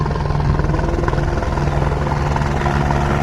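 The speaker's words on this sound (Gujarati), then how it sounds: "હેલિકોપ્ટર આવી ગયું" A helicopter's loud, close rotor chop throbs steadily on the Kedarnath pilgrimage route, a dense pulsing drone with engine whine and no voices.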